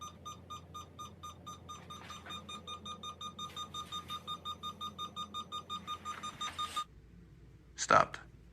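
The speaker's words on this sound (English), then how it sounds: "Oh, the whole flashy beeper thing." A flashing beeper device sounds a steady run of evenly spaced electronic beeps, fairly faint and tonal, which stops abruptly and is followed by a single louder thump-like burst.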